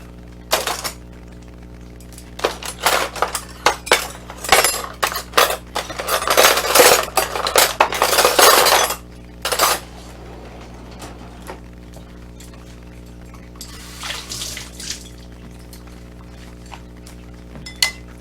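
A metal spoon clinks and scrapes against a pot of vegan chili: clusters of close, bright clinks and clatter for several seconds, then a short pause and a softer stir near the end.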